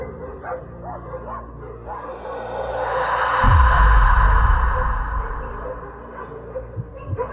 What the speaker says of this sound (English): a man hears his dog barking non-stop